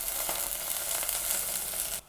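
Spring onions sizzling hard in hot vegetable oil for spicy Jeju seafood ramen: a dense, loud, continuous crackle that cuts off abruptly at the end.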